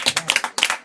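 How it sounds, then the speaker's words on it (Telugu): A church congregation clapping hands loudly in a fast, steady rhythm during a worship gathering, close and sharp with no talk over it. "చప్పట్లు కొడదాం గట్టిగా."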